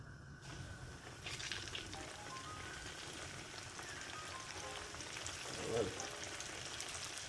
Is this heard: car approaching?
no